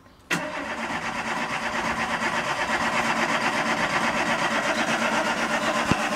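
A car's starter cranks the engine at a steady, rapid churn for about six seconds without it catching, close by and moderately loud, with a sharp click at the start.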